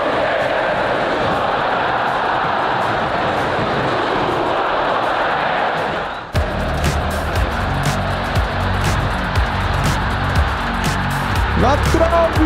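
Flamengo supporters roar in a packed stadium during the 2024 Campeonato Carioca, a dense, steady crowd din that grows busier and more rhythmic midway, with chanting pulses and a voice talking over it.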